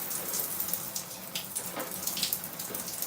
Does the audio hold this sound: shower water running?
yes